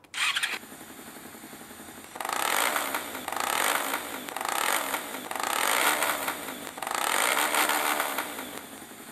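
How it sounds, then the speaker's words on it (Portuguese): A Honda XRE 300cc motorcycle engine in the mobile game Moto Acelerador revs repeatedly, four or five rising throttle bursts after an idle, loud and close with no talk. "A próxima é de 300 cilindradas, que é a XRE da Honda também."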